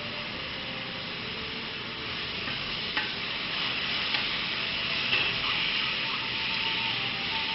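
Onion and garlic sizzle loudly and continuously in a hot pan, with scraping stir strokes mixed in, close and without talk.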